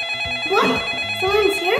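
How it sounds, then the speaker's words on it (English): A telephone rings in a home with children and a pet turtle nearby, its repeated electronic ringtone carrying steadily over voices talking close by. "That's the phone."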